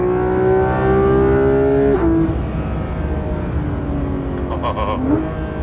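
Porsche 991.2 GT3 RS engine under way, a loud sustained drone with steady harmonics that climb, break at a shift around two seconds, then settle and pull again, filling the whole stretch with no voices on top.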